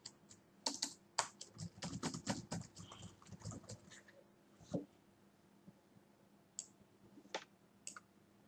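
Computer keyboard typing while writing a cover letter: a dense burst of rapid key clicks, then a pause and a few scattered single keystrokes, close and fairly quiet.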